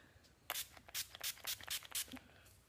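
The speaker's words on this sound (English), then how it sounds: "next you set the NYX matte finishing spray." Several quick, close hissing spritzes of a NYX matte finishing makeup setting spray in an irregular burst, with soft handling noises between them.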